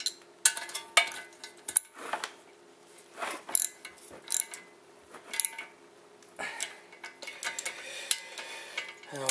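A hand tool ratchets and clanks as it pulls a wheel bearing back into place during Honda captive rotor reassembly, giving a series of sharp metallic clicks and bursts in an irregular rhythm, close and clear with no talk.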